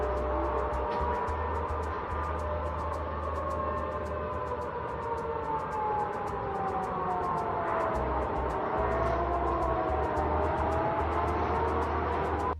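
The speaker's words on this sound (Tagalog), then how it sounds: "Tumunog ang mga sirena sa gitna ng gabi sa mga lungsod ng Rusya." An air-raid siren wails over a Russian city at night, rising and falling slowly over a long, continuous stretch, with steady low background rumble and faint repeated clicks.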